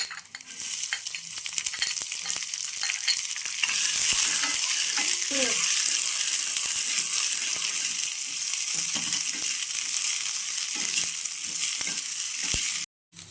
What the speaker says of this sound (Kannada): ನೋಡಿ, ಫ್ರೈ ಆಗಿದೆ.